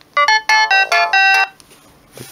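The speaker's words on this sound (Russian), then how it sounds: "И вот такая вот классная полифония в этих телефонах." A Samsung C110 mobile phone plays a short, loud polyphonic ringtone melody of bright synthesized notes in a quick rising and falling pattern, ending after about a second and a half.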